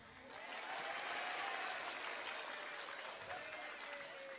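Dense applause from an audience, a continuous wash of clapping that holds steady for several seconds.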